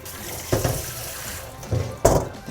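Running tap water splashes in a sink while webfoot octopus is rinsed by hand, heard as short bursts of splashing and rushing water close up.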